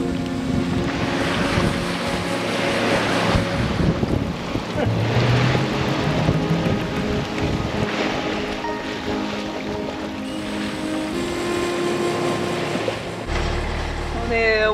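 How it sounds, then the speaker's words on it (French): Rough ocean swell and gusting wind buffet a sailboat mid-Pacific crossing in terrible weather, a continuous loud wash of waves and wind noise rushing over the microphone, with brief creaks and tonal hums throughout. "Il fait un temps terrible dehors. Apocalyptique. Une houle de merde."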